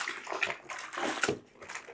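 Antique Persian rug being rinsed in a bathtub, water sloshing and splashing in uneven bursts close by, with no voices.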